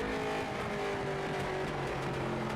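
Onboard a late model race car, number 27, lapping North Wilkesboro: a loud, steady engine roar with a constant pitch and road rumble, close and continuous with no talk.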